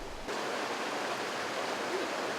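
Swift-moving creek water rushes steadily in a broad, even hiss, close and continuous without pauses.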